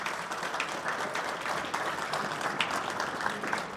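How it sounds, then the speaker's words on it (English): A conference audience at a panel discussion gives a round of applause, a soft, even wash of clapping heard from a distance and fairly faint throughout. "give me a round of applause"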